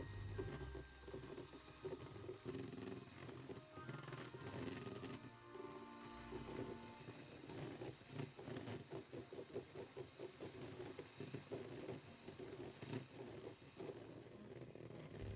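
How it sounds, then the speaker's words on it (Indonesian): An electric mixer whirs steadily while beating egg yolks with powdered sugar in a bowl, a quiet, continuous motor hum with faint rattling from the beaters. "kuning telur dikocok hingga mengembang dan juga kental"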